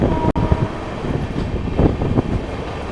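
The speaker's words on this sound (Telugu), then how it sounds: "ఇప్పుడే ఆర్ట్స్ కాలేజ్ స్టేషన్ అయితే దాటుతుంది ట్రైన్" The Secunderabad–Vasco Da Gama bi-weekly express rolls past Arts College station, heard from aboard as a loud, steady rumble of wheels and rattling carriages with a sharp knock near the start.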